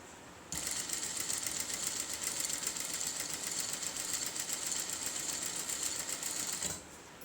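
A sewing machine runs in one steady, continuous burst of fast stitching on an aari work blouse with eight layers of fabric, starting abruptly and stopping near the end, close and alone without talk.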